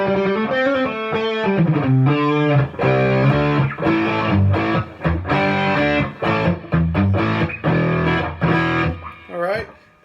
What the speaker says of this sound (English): that's an OCD. They're very common, very decent quality distortion pedal going into a Fender Hot Rod Deluxe.